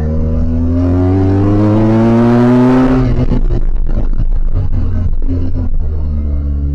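A BMW R1200GS Adventure motorcycle engine revs up loud and close with a rising whine, then drops sharply as it shifts gears and keeps pulling with a rough, throaty rumble.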